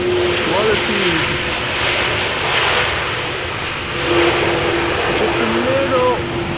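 An airliner lands at Amsterdam Schiphol Airport in crosswind conditions and its thrust reversers briefly spool up. The result is a loud, steady, distant jet roar that swells slightly, heard under an excited voice talking throughout.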